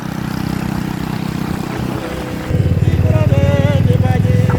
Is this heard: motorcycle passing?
yes